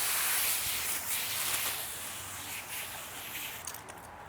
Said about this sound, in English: And then just spray as you go.